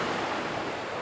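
Surf rolls in at Uluwatu beach in Bali, a steady broad wash of ocean waves with a little wind noise, with no voices heard over it.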